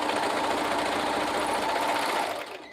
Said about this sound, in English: like right here where I'm sewing, just the shoulder strap